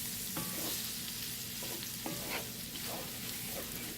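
Flour cooks in a pan before milk goes in, making a steady hiss and sizzle with a few soft stirring scrapes at intervals, close and quiet, no talk.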